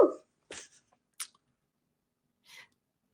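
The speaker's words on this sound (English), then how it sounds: "Sorry, I think I'm going to sneeze." A single close, sharp sneeze bursts out at the start, followed by a few faint, brief breaths and sniffs in otherwise quiet surroundings.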